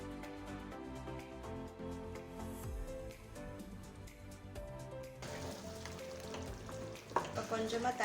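Coconut paste sizzling and frying in a pan while cooking Coimbatore-style chicken gravy, a steady crackling hiss running throughout with a louder burst of sputtering near the end.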